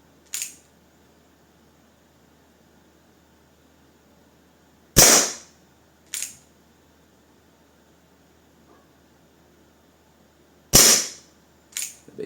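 Colt Smoke Wagon CO2 revolver in 4.5mm firing pellets: sharp, loud single shots at well-spaced intervals, each a crisp crack with a short decay, a couple of softer clicks or impacts between, over a quiet background.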